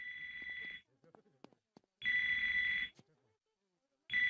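A mobile phone rings in an animated cartoon, where the phone is lodged in a character's back. Three loud, sustained electronic ring bursts are separated by short gaps holding faint clicks and brief sounds.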